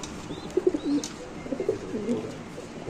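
Red Bombay pigeons coo in soft, low, repeated phrases that rise and fall in uneven bursts, heard close and moderately loud over faint background noise.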